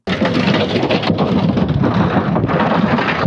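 Heavy storm rain pours down in the town of Boryslav, a loud, dense, unbroken roar of drops hitting surfaces up close, with low rumbling underneath.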